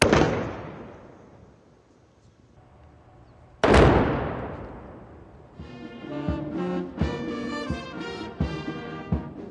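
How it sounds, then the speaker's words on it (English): Two booming cannon shots of a 21-gun salute at a ceremonial welcome for a Prime Minister at a State House ring out and decay into long echoes, then a brass band starts playing with drum beats. "Prime Minister was accorded a ceremonial welcome with a 21-gun salute."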